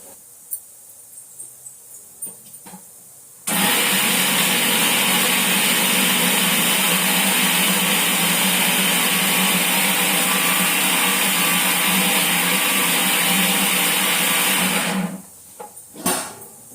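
A mixer grinder grinds coriander chutney for idli, a loud steady motor whir starting abruptly, running about eleven seconds and cutting off, with faint kitchen clatter before and after.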